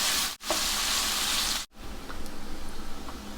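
Onions with garam masala and salt frying in a pan, a loud steady broadband sizzle broken by two brief gaps, quieter and crackling after the second.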